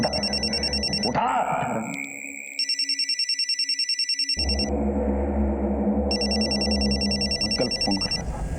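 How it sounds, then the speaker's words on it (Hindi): An electronic telephone ringtone trills in repeated bursts with a pause in the middle, loud and close, while someone speaks over parts of it. "हाँ मेरा फोन बज रहा है। फोन बज रहा है, उठा उठा।"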